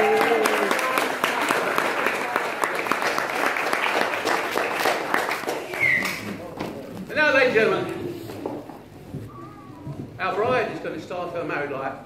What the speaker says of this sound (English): Give me a nice round of applause.